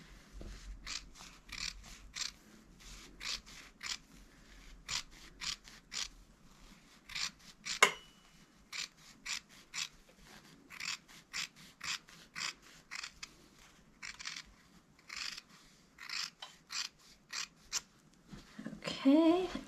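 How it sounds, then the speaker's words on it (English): Scissors trim the fabric seam allowance of a sewing project's under collar with a steady run of crisp, close snips, each cut short and sharp, repeating at an uneven rhythm with brief pauses. "So I'm just going to trim that down to about a 1/4 inch is fine."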